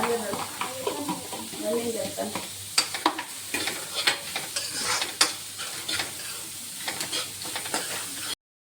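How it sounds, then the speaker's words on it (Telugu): Onion, capsicum and carrot sizzle in a pan for white cheese pasta, with a steady frying hiss broken by repeated scraping stirs, close and fairly loud. "Next onion, capsicum and carrot కూడా వేసేసుకుందాం."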